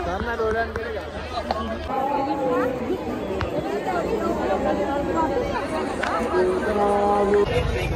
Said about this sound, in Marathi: गाईज गर्दी बघू शकता तुम्ही